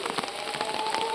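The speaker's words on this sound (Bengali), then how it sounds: "ওইটা আমি কই না বৃষ্টি পড়তেছে" Morning rain patters on a surface in a short, soft stretch, fine drops ticking and splashing at a steady low level with no voices.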